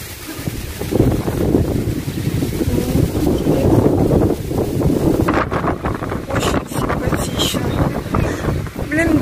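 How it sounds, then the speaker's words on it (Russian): Steady wind buffeting the microphone, a continuous low roar with gusts, under people talking nearby, beside a hotel pool in Hurghada, Egypt. "чтобы ветра не было"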